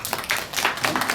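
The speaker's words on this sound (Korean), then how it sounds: "옆 분들에게 박수 한번 치주시고" A church congregation on Sunday claps for the people seated beside them, a brief burst of scattered hand claps swelling in soft waves across the room for about a second.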